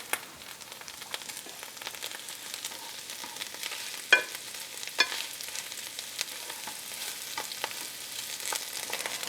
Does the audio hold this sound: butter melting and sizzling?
yes